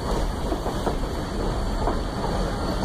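A train rolls steadily along the rails with a continuous rumbling clatter and faint rhythmic clicks, fairly close and even throughout, no voices.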